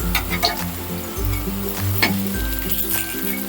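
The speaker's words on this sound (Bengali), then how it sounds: "মিডিয়াম আছে কিন্তু এইভাবে লাল করে ভেজে নেব।" Elephant foot yam fritters (ol bora) frying in hot oil in a pan, a steady close sizzle and crackle running throughout with a faint tonal hum in the background.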